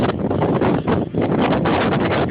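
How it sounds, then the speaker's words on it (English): Strong blizzard wind in Brooklyn, New York, blowing as a loud, continuous broadband roar that briefly dips and then surges back in steady gusts. "it is still very windy."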